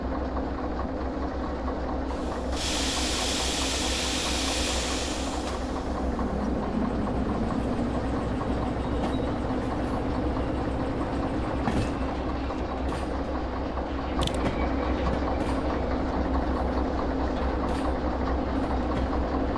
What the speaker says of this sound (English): Luckily the engine isn't too loud.